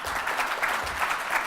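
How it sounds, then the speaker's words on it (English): An audience at a sales summit on employee engagement applauds as Stefan Wissenbach is called to the stage, a steady, dense wash of clapping hands that stays even and sustained throughout. "please, ladies and gentlemen, give a big a round of applause for Stefan Wissenbach"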